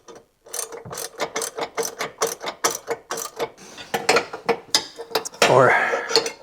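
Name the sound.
ratchet wrench on tow hitch bolts, Honda Pilot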